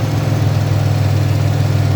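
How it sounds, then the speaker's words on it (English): Engine cooling fan running on a 2005 Chevrolet Impala with a wiring issue, a steady low whirring hum with engine idle, constant and close throughout with no talking. "I noticed that the fan is on, and so the fan kicks on anyway"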